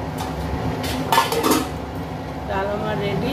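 A metal cooking pot of masoor dal with bottle gourd clanks and scrapes as it is lifted off a gas stove, a short cluster of clinks in the middle over a steady kitchen background.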